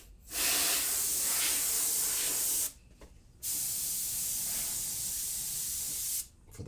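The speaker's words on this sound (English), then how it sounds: "For the fans, for my motherboard, for the keyboard, the air spray." A compressed-air spray can blasts dust from a computer's fans, motherboard and keyboard in two long close hissing bursts separated by a brief pause, with the start of a third at the end.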